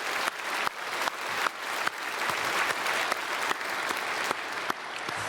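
Sustained applause from a large church congregation during a Korean Sunday worship service, dense steady clapping filling the whole stretch with periodic louder swells, close and full, no voices over it.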